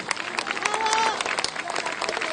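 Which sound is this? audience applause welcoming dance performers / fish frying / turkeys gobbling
audience applause welcoming dance performers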